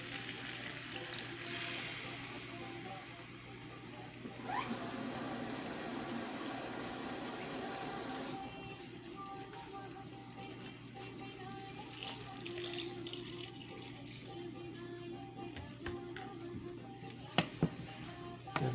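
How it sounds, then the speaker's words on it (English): Water runs from a tap into a pot of Guyanese potato curry, a steady splashing pour that shifts in pitch as the flow changes, then gives way to quieter kitchen clatter and a few sharp knocks. "Now we're gonna go ahead and add some more water."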